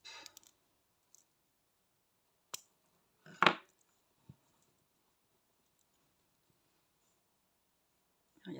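Scissors snipping crochet yarn while making a crocheted octopus: a few sparse, quiet clicks and one sharper snip near the middle, otherwise near silence.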